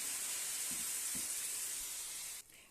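Water poured into a pan of frying mince, onion and carrot brings a loud, steady hiss and sizzle that cuts off abruptly near the end, with a couple of low thumps early on.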